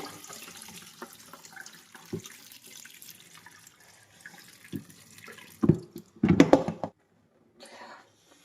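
Water splashes and pours out in a few short bursts, with drips and clatter in between, a brief gush near the end, as water is drained off boiled mangoes for pickle.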